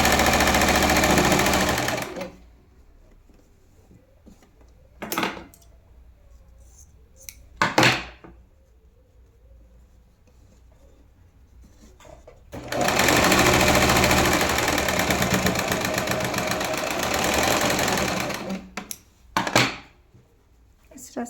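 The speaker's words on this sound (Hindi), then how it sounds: "इस तरह से इसको पट्टी को सीधा करेंगे और यहाँ पर सिलाई लगाएंगे" A sewing machine stitches a blouse lining in long, loud continuous runs, starting and stopping in bursts with quiet pauses between them.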